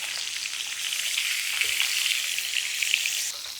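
Beef fillet sears in a hot pan for a Beef Wellington, giving a steady, dense sizzle that holds close and fairly loud for the whole stretch, with no voices over it.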